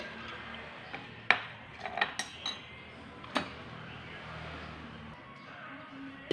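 A utensil clinks and scrapes against a pot while stirring in spring onions with a whole chicken, in several light, uneven knocks over a low background hum, with no talking.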